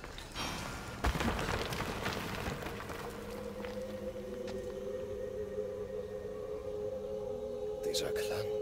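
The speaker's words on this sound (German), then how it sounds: "Gibt es hier wirklich Sirenen?" The eerie song of sirens in Assassin's Creed Odyssey rises as a sustained, wavering tonal drone over a rumbling game ambience, with a brief thump near the start and faint clatter toward the end.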